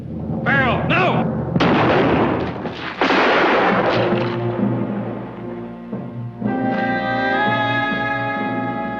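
A radio-drama gunshot cracks out as sharp, loud blasts with rumbling booms, mixed with music and dramatic voices speaking over and around the shots.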